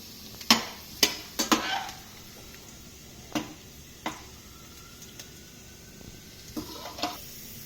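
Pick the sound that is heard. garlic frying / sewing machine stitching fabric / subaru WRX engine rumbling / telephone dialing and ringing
garlic frying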